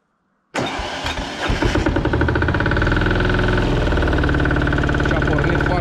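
A cold Goldoni Joker 8DS two-wheel walking tractor engine cranks and catches abruptly, then settles into a loud, steady, close-up running rhythm with no talk.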